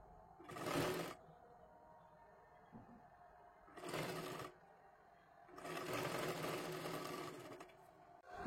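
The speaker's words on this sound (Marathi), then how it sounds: "अशा पद्धतीमध्ये ही पूर्ण शिलाई मारून घ्यायची आहे" A sewing machine stitches blouse fabric together with its lining in three separate runs, a fast, even whirring buzz that starts and stops, with quiet pauses between.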